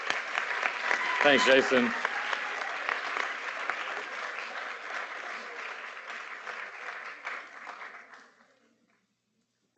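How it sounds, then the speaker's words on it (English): Audience applause at a campus anniversary spirit festival, sustained clapping from a sizable crowd that gradually thins and fades out, with a brief spoken thanks near the start. "By the sound of your applause"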